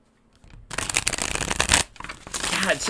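Large cards riffled and shuffled close by, a dense papery rustling that swells and settles in bursts after a quiet start.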